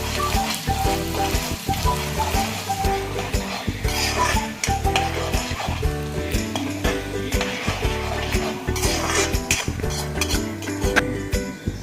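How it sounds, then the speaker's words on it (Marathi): Onion fries in oil in a preheated wok, a continuous loud sizzle broken by repeated metallic scraping and clinking of a spatula against the pan, with steady rhythmic stirring throughout and no talking. "आता थोडासा कांदा घालून ब्राऊन होईपर्यंत ते शिजवते त्याला"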